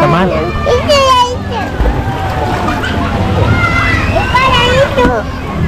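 Water sloshing and splashing as someone swims in a hot spring pool, rippling close by under lively children's voices and chatter from other bathers.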